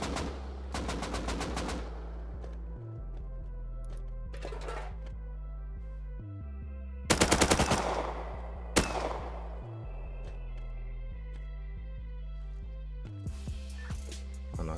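Gunfire in the survival video game Rust, heard during a solo large oil rig raid: loud bursts of rapid automatic fire alternate with isolated single shots over a humming game backdrop, with no talk.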